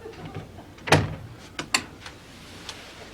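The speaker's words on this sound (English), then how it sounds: "Open the door, Stanley." A house door is unlatched and pulled open, giving a solid knock-like clack followed by a couple of lighter latch and hinge clicks, close and fairly crisp against a quiet room.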